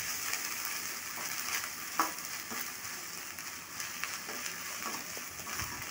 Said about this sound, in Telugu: అల్లం వెల్లుల్లి పేస్ట్ పచ్చివాసన వెళ్ళే వరకు ఫ్రై చేసుకోవాలి